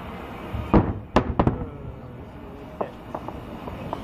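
Eid al-Fitr fireworks burst in Riyadh as a few loud, sharp booms close together, followed by fainter distant pops, with voices talking in the background.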